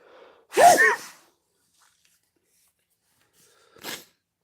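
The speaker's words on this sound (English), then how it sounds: "Here comes a sneezing fit." Two sneezes in a fit, the first loud and close and the second shorter and fainter a few seconds later, with near silence between them.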